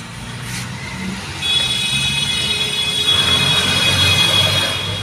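Maruti Suzuki Eeco van running with a faulty differential, a steady mechanical drone and rumble with a thin high whine, getting louder partway through.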